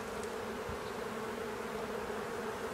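Honeybees buzz around an open hive on a spring inspection, a steady, close drone of many insects with no talk over it.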